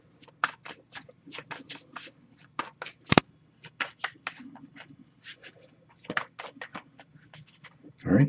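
An oracle card deck is shuffled by hand in quick, papery riffling bursts with brief pauses, close and clear, with faint talk at moments.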